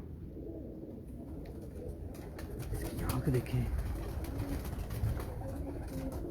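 Low, rolling coos from Teddy pigeons at a breeder's loft in Karachi sit beneath someone talking, with a louder stretch of bird sound near the middle.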